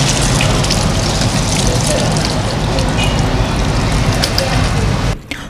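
Water gushing steadily from an electric hand-washing device as hands are rinsed, a loud, close, continuous splash that cuts off near the end, with speech in the background.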